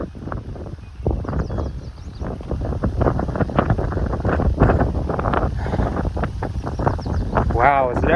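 Gusty wind buffeting the microphone along a lakeside waterfront trail, a steady low roar with fluctuating blasts throughout, mixed with footsteps and faint background sounds.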